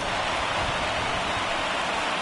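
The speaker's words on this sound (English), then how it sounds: "we've mentioned the conditions aren't ideal with the rain coming down" Steady rain pours down during a rain-soaked baseball game, a dense, even hiss of falling drops with no break from start to finish.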